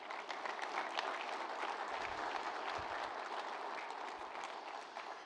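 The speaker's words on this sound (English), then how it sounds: "Let's give them a round of applause." Steady applause from the audience at a renewable fuels summit in Iowa, dense clapping that holds evenly for several seconds, moderately distant in a large hall, with no one speaking over it.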